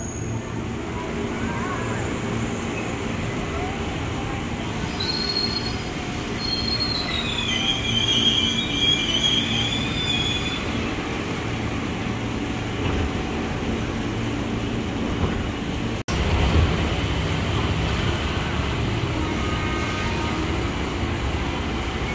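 A 12-car KRL Commuter Line train rumbles steadily into Duren Kalibata station close by, its wheels letting out high metallic squeals midway, with a loud continuous roar throughout.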